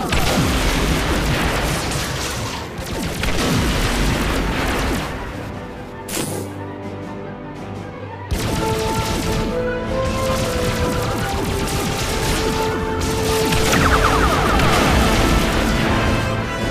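Star Trek: The Video Game starship combat near New Vulcan: phaser fire and explosions, loud crashing blasts and booms in dense bursts, then a short lull and a renewed barrage of impacts and ringing energy tones.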